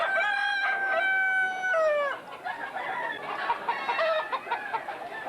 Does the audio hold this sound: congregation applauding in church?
no